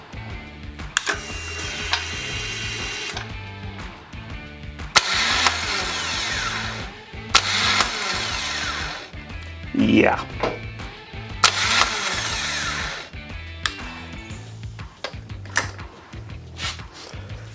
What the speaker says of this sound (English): we've got a starter issue going on here, and you should be able to hear this